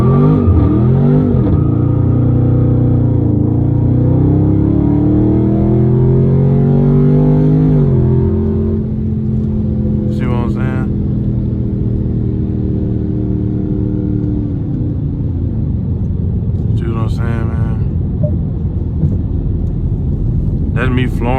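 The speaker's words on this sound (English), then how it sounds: "That's me flooring it, and look how long it spun." A 392 Scat Pack car launches from a standstill at full throttle in cold weather, a loud sustained engine roar climbing in pitch through the first eight seconds with tires spinning, then settling to a steady rumble while someone talks over it.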